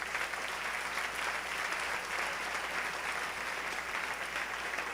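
A church congregation applauding during a Spanish-language sermon, a sustained wash of many hands clapping at moderate loudness, steady from start to finish.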